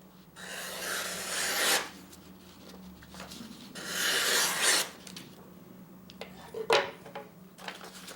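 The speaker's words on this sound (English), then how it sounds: "Sharpen it up on my work sharp, people. Put a polished edge on it." A Demko AD20S knife edge sharpened on a Work Sharp sharpener, two long rasping grinding passes, each lasting over a second, followed by shorter scraping strokes and light metallic clicks, close and fairly quiet.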